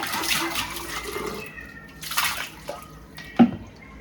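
Water splashing and running as removed parts of an RO and UV water purifier are washed, irregular sloshes and trickles close by with a sharper splash near the end.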